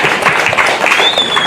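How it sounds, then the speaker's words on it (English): A short burst of loud, close applause at an African library project summit, dense clapping with a high tone creeping in toward the end. "Another round of applause"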